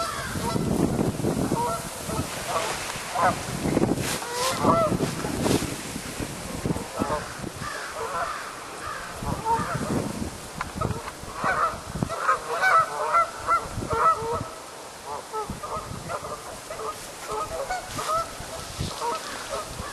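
Geese honk repeatedly outdoors by a river, a loose chorus of harsh calls at moderate distance, with some talking and outdoor noise mixed in.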